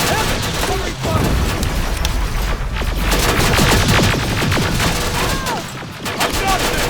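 Dense bursts of automatic gunfire and booming shots rattle almost continuously in Terminator Resistance, a chaotic firefight with rapid overlapping reports and occasional shouting voices mixed in.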